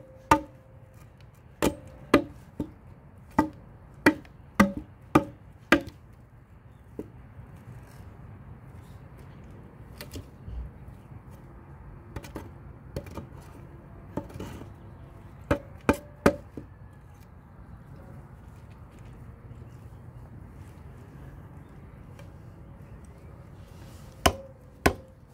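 Sharp chopping strikes at night outdoors, coming in quick irregular clusters with pauses in between, some louder and some fainter, against a low steady background rumble.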